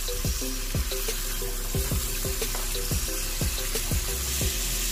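Vegetables for chopsuey sautéing in a pan, a steady close sizzle with a rhythmic series of spoon or spatula scrapes and taps as they are stirred.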